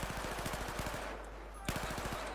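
Rapid automatic gunfire in Battlefield 4 rattles off in two bursts split by a short pause, with a steady low hum under it.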